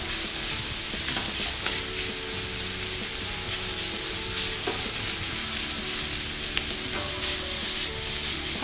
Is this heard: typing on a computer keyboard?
no